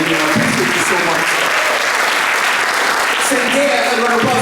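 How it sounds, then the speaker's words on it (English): Audience applause for the technicians at a poetry and spoken-word recital event, a dense, steady clatter of clapping that fills the whole stretch, with a few voices talking faintly underneath. "shout out a round of applause for the technicians for doing the work that they do"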